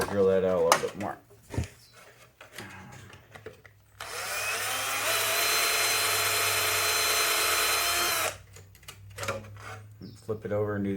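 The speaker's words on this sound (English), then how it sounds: "we gotta drill that out a little bit more" A power drill bores out a slash dust cover part, a loud steady whine lasting about four seconds, with talking before and after along with scraping and handling noises.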